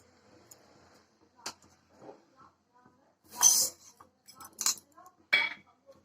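Raw rice poured from a tumbler into a metal cooking pot, heard as a few scattered clinks and rattling bursts of grains against metal, close and fairly quiet, with brief pauses between them.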